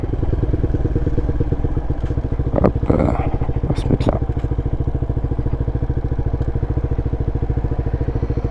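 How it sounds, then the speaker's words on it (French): A Peugeot PM-01 125 motorcycle idles close by with a steady, rapid engine pulse throughout, a few light clatters mixed in, and someone speaks French briefly over it. "on va essayer de vous montrer cette moto"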